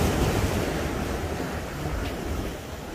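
Ocean surf on the East Sea coast on a clear winter morning, a constant loud roar of breaking waves mixed with wind buffeting the microphone, with no voices.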